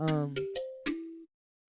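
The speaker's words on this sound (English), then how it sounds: "So all this is I took like a sort of bell plucky kind of sound from Omnisphere." Bell-like plucky synth patch from the Omnisphere software instrument, playing a few clear pitched notes in sequence, each sustained briefly and then cut off, alone with no talking.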